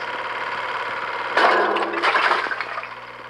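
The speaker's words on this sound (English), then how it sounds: "you can also use them to bust icicles off the side of the studio" Zildjian cymbal swung against icicles on a studio wall outside, a single crunchy shattering impact followed by scattered tinkling fragments, fairly close.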